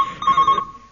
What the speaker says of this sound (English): It's his mobile phone.